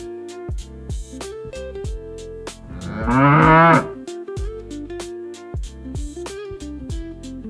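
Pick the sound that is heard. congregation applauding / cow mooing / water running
cow mooing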